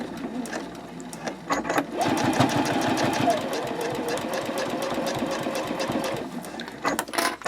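A sewing machine runs a seam on a boxy dopp bag at a 3.0 stitch length, with backstitching at the ends. It gives a steady close mechanical chatter with rhythmic needle clicks while a voice speaks over it.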